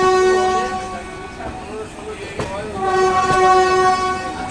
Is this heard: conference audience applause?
no